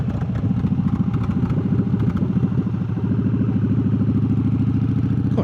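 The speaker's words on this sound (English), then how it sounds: "Hope people don't mind a noisy exhaust." A bobber motorcycle with a noisy exhaust, heard while riding: a loud, steady, rapid engine throb with rattling clatter, close and continuous throughout.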